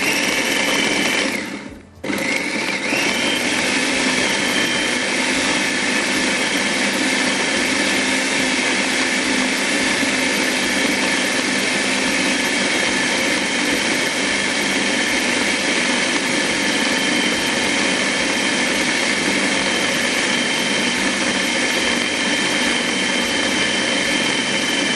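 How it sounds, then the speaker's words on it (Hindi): An electric food chopper grinds mini burger ingredients with a loud, steady whirring drone, broken only by a short pause near the start before running on continuously. "तो चॉपर को चलाते हैं।"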